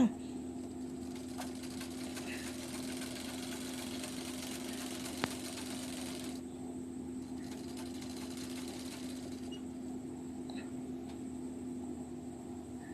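A sewing machine stitches a door mat made from old cloth, its steady mechanical whir running close and continuous with a brief pause partway through.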